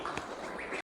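Domestic ducks housed indoors quack in a short, busy overlapping burst at close range, cutting off abruptly.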